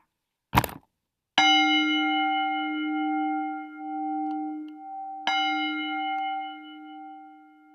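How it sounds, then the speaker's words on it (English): A meditation bell is struck twice, each strike leaving a long, clear ringing tone that slowly fades. A soft knock comes just before the first strike, and there is no talking. "So I'm going to invite the bell."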